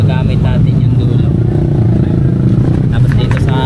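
A stock-tire motorcycle on a breakfast ride, heard as a steady, loud engine drone with road noise that holds constant throughout, with no speech.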